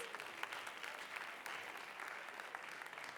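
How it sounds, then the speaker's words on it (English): Audience applause at a school writers week event, a sustained patter of many hands clapping, fairly faint and distant, continuing evenly throughout without talk. "Let's give them a round of applause, please, please."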